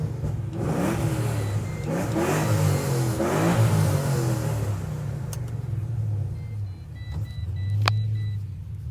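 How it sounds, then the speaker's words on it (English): A rebuilt Pontiac GTO engine runs and revs hard, its deep rumble swelling through several throttle blips in the first half before settling to a steadier idle with a sharp click near the end. "Just had to let my neighbors know that the car is back up and running"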